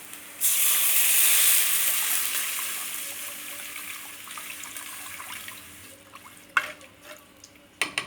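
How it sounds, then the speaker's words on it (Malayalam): Water is poured into a hot pan of spiced oil for cabbage curry, giving a sharp sizzling hiss that slowly fades, followed by a few clinks of utensils. "ഇതിലേക്ക് നമ്മൾക്ക് കുറച്ച് വെള്ളം ഒഴിച്ചു കൊടുക്കാം"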